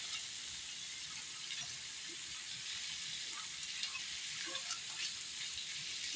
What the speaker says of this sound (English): Crumble up your corned beef and fry these potatoes with